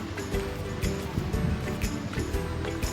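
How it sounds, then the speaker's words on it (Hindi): Ocean waves wash steadily onto a beach on Guraidhoo Island in the Maldives while strong wind roars across the microphone in a constant, dense rush. "साथ में जो लहरों का जो शोर आ रहा है और उसके साथ हवा भी इतनी तेज चल रही है"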